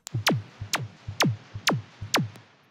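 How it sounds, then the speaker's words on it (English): Small, quick synth plucks in a hard techno track land in a steady repeating rhythm, each short tone dropping sharply in pitch and fading quickly, with no voice over them. "Little things like this, like a small quick pluck that sounds like this."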